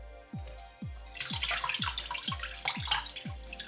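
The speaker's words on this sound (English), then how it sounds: "So I just wash it like this, pour it on it." Bitter leaf is washed by hand in water for Nigerian soup, with a rhythmic series of about eight sloshing scoops and splashes, close and moderately loud, growing busier toward the end.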